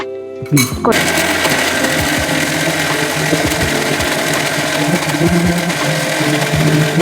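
A mixer grinder whirs steadily, grinding poppy seeds for a Karnataka-style mutton kaima curry, a loud continuous motor drone with rhythmic knocking from the jar, starting abruptly after a brief quiet moment.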